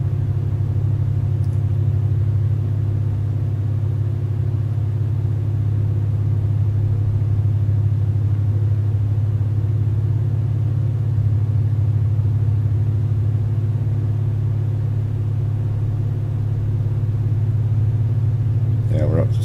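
A Volvo truck in Euro Truck Simulator 2 drives at speed, its engine a steady, loud low rumble that holds evenly throughout with no clear gear changes or revving.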